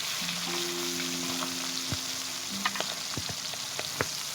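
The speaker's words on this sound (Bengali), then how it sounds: "দাও এইভাবে সব মাছগুলো ভেজে নেব।" Pangas fish fillets frying in a pan over a stove, with a steady broadband sizzle of hot oil throughout and a few sharp crackles and pops near the end, alone without talk.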